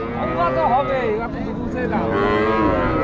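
Cows moo at a busy cattle market in Rajshahi, where dairy cows and buffalo are traded; the loud, drawn-out lowing rises and falls over a constant murmur of crowd talk close by.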